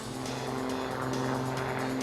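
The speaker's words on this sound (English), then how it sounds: "The sheer power of the Raven is evidenced in the roaring torque roll." The Raven aerobatic airplane's engine roars steadily during a torque roll, a loud continuous propeller drone with a strong low hum and no talk.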